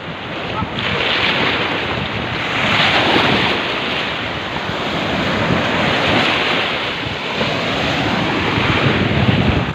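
Rough sea waves slosh and crash around a small fishing boat off the Philippine coast, a loud, continuous wash of surf mixed with gusty wind buffeting the microphone.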